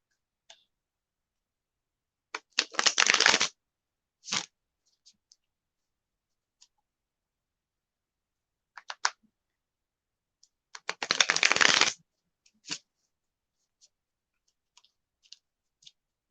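Two bursts of crisp card riffling, each a couple of seconds long, separated by quiet pauses with scattered soft ticks and taps.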